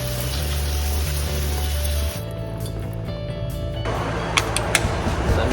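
Water sprays steadily from a garden hose onto a Subaru while it is rinsed after a front differential service. The hiss is loud and continuous, shifts in tone partway through, and carries a few brief splashes.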